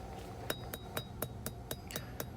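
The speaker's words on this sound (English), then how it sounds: "I'm actually working the bevel off the edge of the anvil" A hammer strikes a hot knife blade as its bevel is drawn out on the edge of a new anvil, about nine sharp, ringing metallic blows in a quick even rhythm, close and clear.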